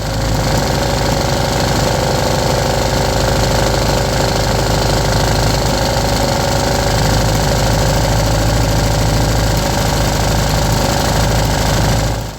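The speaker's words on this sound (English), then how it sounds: "casually idling at max RPM." A small 3D printed engine runs flat out at maximum RPM in a smoky workshop, giving a loud, dense, continuous mechanical drone that holds steady for the whole stretch with no talk.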